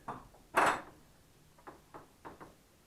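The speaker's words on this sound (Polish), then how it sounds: "Weź otwórz drzwi, bo nie widać." The cab door of a John Deere 6810 tractor opens with one sharp latch clack, followed by a few softer, quieter knocks and rattles, close by with no talking.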